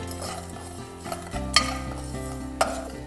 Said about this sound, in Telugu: మెంతులు, జీలకర్ర, పట్ట, లవంగ, మిరియాలు ఇవన్నీ డ్రై రోస్ట్ చేసుకోవాలి.